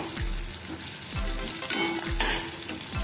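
Onions with slit green chillies sizzle steadily in a pan while a spoon stirs them, scraping in regular sweeps roughly every second, close and fairly loud with no voices.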